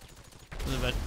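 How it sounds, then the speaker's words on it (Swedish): Gunfire in the video game GTA 5: a quiet lead-in gives way to a dense burst of shots from about halfway through, loud and sustained to the end. "Det kommer skott."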